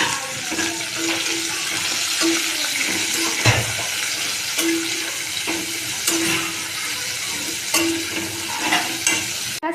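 Chopped onions fry in oil with small cardamom pods, cloves and cinnamon, giving a steady close sizzle with repeated stirring scrapes and clinks from a spoon against the pan, and no talking.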